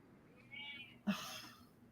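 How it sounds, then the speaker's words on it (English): A pet cat gives a single short meow, fairly close and clear, over a quiet room with a faint tone before it. "Yes, I love my kitty too."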